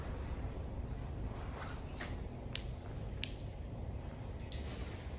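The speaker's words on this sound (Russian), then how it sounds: "Из раковины течет вода." A steady wash of running water with faint drips and splashes, continuous and fairly quiet, a tap left flowing into a sink in an abandoned Soviet laboratory.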